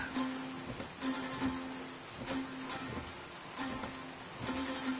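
Steady rain pattering on a surface, with a soft continuous hiss and faint repeated drips, no voices.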